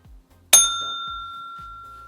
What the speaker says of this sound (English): remember, you got to ring that bell